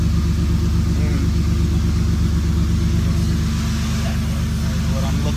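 Modified Nissan S13 with a 1JZ engine swap idling, a steady loud rumbling drone with a rhythmic low pulse and no revving.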